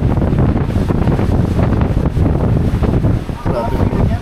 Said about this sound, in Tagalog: Naririnig niyo yun? Hangin.